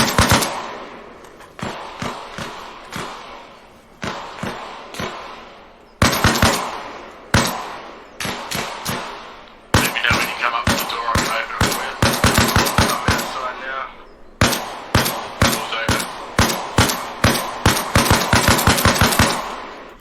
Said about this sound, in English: whilst I'm shooting and suppressing and shooting a dead dude on the ground